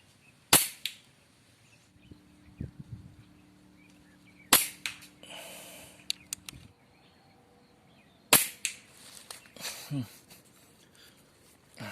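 Three sharp, loud gunshots ring out during target shooting, spaced several seconds apart, with people talking quietly between them.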